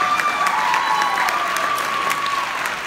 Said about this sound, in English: guys, round of applause for them